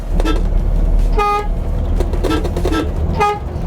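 The horn of a Volvo 9700 HD coach bus sounds several short, loud honks in an uneven, tune-like rhythm over a constant low engine rumble heard from inside the vehicle. No one speaks.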